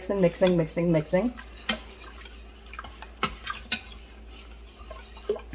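Milk and yogurt are stirred for Instant Pot yogurt, with soft scraping and clinks from a utensil against the pot. A person speaks briefly at the start, then scattered stirring taps follow.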